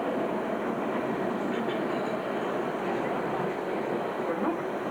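A London Underground train runs with a loud, continuous rumble and roar of wheels on rail inside the carriage, steady throughout with muffled voices in the background.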